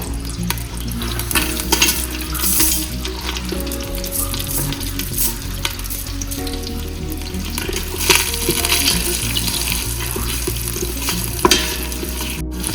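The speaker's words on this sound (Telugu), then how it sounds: "ఇప్పుడు నెయ్యి వేడైంది గరం మసాలా వేస్తున్నాను" Garam masala tipped into hot ghee sizzles loudly and steadily in a pan for a biryani, close up, with scattered clinks and stirring scrapes over the continuous frying hiss; no talking.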